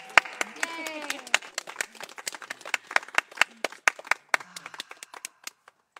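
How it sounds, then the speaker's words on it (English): Participants at a Friday night sunset sound meditation clap for themselves, a sparse scattering of distinct claps from a small group, with a voice and light cheers at the start before the clapping thins out. "Give yourselves a round of applause."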